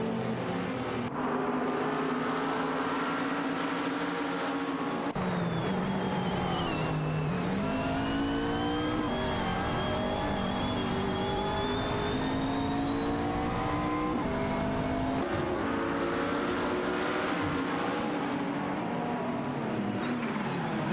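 Race cars in an AI racing video game drone past continuously, engine tones rising and falling as they accelerate and shift, a steady loud layered roar with no voices.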